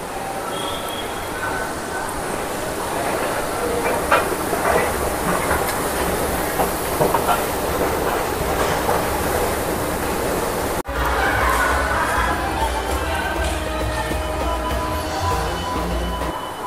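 A metro train rumbles steadily through the Souq Waqif metro station with a continuous clickety-clack of wheels on rail, close and loud throughout, with a brief break near the end before the rolling noise resumes.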